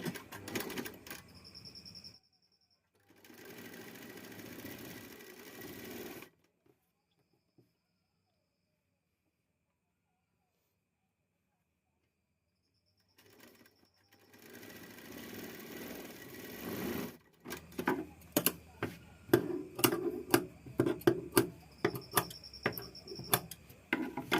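A sewing machine stitching a blouse runs in short whirring bursts, then goes quiet for several seconds before resuming with a quick, rapid stitching patter near the end.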